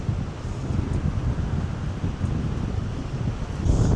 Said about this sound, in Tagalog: kaya lang grabe yung hangin